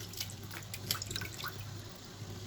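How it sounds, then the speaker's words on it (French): Carrots going into a pot of hot water on a stove, with irregular watery splashes and drips at moderate, steady level against a low background hum. "Je vais faire plonger mes carottes dans l'eau chaude"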